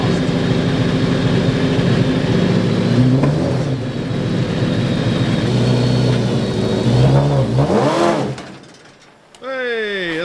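A Toyota Corolla engine cranks and catches, revving loudly and unevenly for several seconds, then cuts out into near silence before another brief start attempt whirs up at the end.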